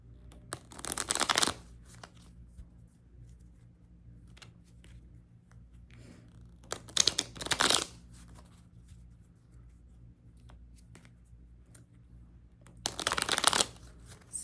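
Tarot clarifier cards are shuffled in three separate bursts, each a second or so of crisp, riffling flutter close to the mic, with quiet pauses between them.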